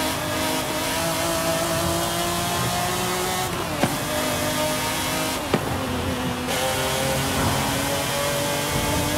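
A 1997 McLaren F1 GT in Forza Horizon 5 drones steadily at a sustained engine tone, with a couple of brief sharp clicks partway through and no talk.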